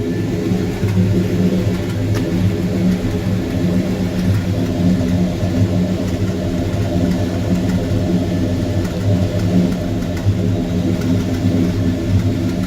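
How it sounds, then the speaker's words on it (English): A 1972 Chevrolet Monte Carlo V8 with dual exhaust rumbles in a garage, a steady, loud, deep throb with light throttle blips that swell only slightly over the idle. "Let me hit the throttle for you."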